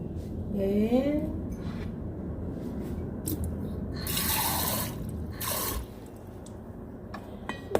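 Water trickles and drips into cornstarch being mixed for crab meat soup, with brief pouring bursts and light clinks between spells of talk.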